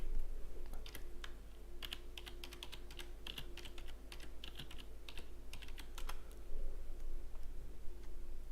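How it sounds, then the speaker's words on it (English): Fingers type on a computer keyboard in quick, irregular bursts of clicks and taps, close and fairly quiet, over a steady low electrical hum with no talk. "I'm still typing it in."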